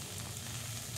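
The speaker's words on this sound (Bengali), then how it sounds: "পেঁয়াজকলিগুলি ভাজা হয়ে গেছে" Onion stalks sizzle and fry in oil in a wok, a steady close hiss with no break and no talk.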